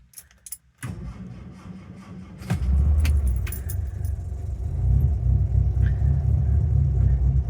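A 1967 Humber Hawk engine cranks with a short starter whir after a jangle of keys, catches, and settles into a steady, loud rumbling idle on choke, its revs rising and hunting slightly.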